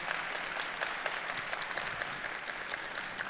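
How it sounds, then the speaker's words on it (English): Applause for four startup founders at a pitch competition summit, a fairly faint, even spread of many clapping hands heard from some distance for a few seconds. "please give a round of applause to all 4 of our founders who stepped on stage today"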